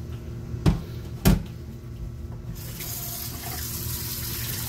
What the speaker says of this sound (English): I'm using water to rinse out the bowl, just hot water.